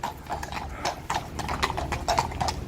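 Horse hooves clip-clop in a steady, fairly close rhythm on a UK street during a police encounter, with faint voices and background noise.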